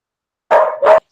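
A dog barks twice in quick succession, loud and close, with silence before and after.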